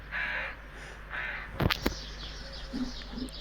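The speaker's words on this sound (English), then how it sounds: "Crows are back." Crows caw in a garden, two hoarse calls spaced apart, then a couple of sharp knocks and softer distant calls, faint against quiet outdoor background.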